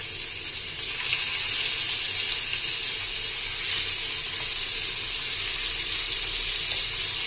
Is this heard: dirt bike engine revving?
no